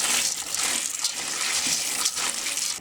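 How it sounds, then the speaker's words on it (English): Pinto beans being rinsed under running water, a steady close hiss of splashing water that runs continuously without a break. "I'm going to give them a quick rinse"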